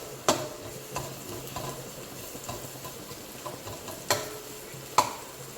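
Chopped onion cooks in wood-pressed groundnut oil in a pan while a spoon stirs it now and then, with a low sizzle under scattered sharp clinks of utensil against the pan.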